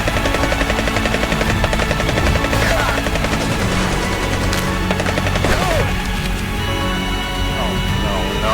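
Video game combat rattles with continuous automatic gunfire over a heavy helicopter-like rotor drone, loud and dense throughout, with voices shouting in the mix.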